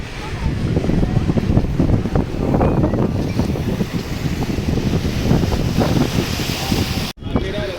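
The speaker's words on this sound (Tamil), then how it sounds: "காற்று அவ்வளோ ஹெவியாக அடிக்குது" Strong gusty wind buffets and roars on the coast at Kanyakumari, with crashing surf mixed into the steady blustery noise.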